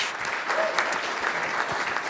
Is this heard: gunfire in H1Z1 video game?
no